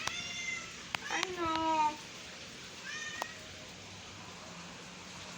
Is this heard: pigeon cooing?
no